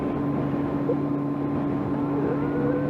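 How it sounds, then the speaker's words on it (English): A 2012 Honda CB400 Super Four with fuel injection idles just after starting, a steady close-up engine hum with an even, unchanging tone. "I've just started the bike, so I'm not going to rev it too much"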